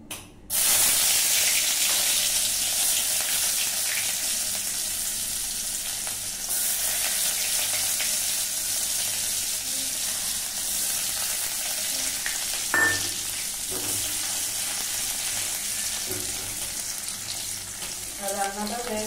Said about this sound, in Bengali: এরপর হালকা ফ্লেমে রসুনগুলোকে ভেজে নিতে হবে।